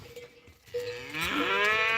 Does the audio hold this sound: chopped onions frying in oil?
no